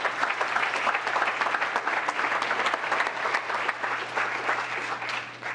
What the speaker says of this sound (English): Another big round of applause for Susan Goodwin.